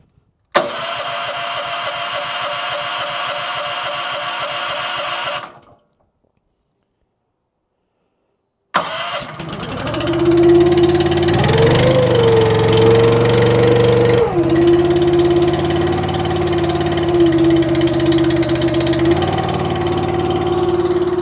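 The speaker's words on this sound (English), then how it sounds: "it's probably going to crank pretty slow because it is cold and it's been a while" A Wolfe Ridge 28 HO high output log splitter engine, cold and long unused, cranks in a rhythmic slow chug, falls silent, then catches with a sharp start and settles into a loud, steady idle with slight speed changes.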